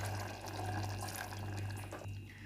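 Water being poured from a glass into potato masala simmering in a pan, a steady close trickling splash over a low kitchen hum, alone without talk.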